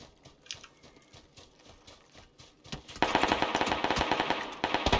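Automatic gunfire in the PUBG Battlegrounds video game, quiet and scattered at first, then a loud, dense burst of rapid shots that keeps firing to the end.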